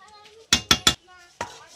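A metal lid set down over a pan of cauliflower cooking with cashew-poppy paste, three quick sharp clanks in a row followed by a fourth after a short pause, close and bright.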